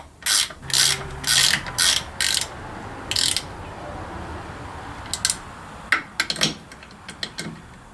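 Fittings being tightened on a 1985 Chevy K10 brake line during restoration, with several loud, close ratcheting bursts at the start, then sparser, lighter clicks and metallic taps.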